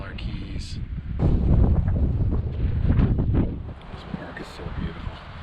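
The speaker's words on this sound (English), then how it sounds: "Even though it's windy as hell, the wind's offshore" Offshore wind in Key West buffets the microphone in heavy, roaring gusts that rise and fall throughout, with no one speaking.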